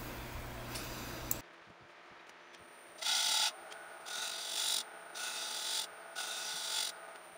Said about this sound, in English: So the sanding process, I started at 80 and went clear up to 400 grit.